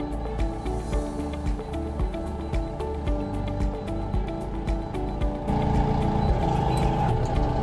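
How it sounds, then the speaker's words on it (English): A Manitou telehandler's engine hums steadily while its boom retracts, a close, continuous mechanical drone with a rise in engine load and hydraulic strain partway through. "Bring the boom back in."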